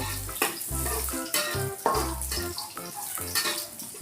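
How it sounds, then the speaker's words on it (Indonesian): Garlic and shallots sizzle in a pan of oil while being stirred for a noodle dish, a steady frying hiss with scraping stirs, heard under background music and without talk. "ini kita aduk sampai dia mengeluarkan aroma harum"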